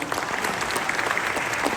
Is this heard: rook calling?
no